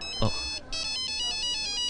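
A phone ringtone for an incoming call in a film's climax action scene plays as a steady, bright, repeating electronic melody, loud and close, with a brief voice and thump near the start.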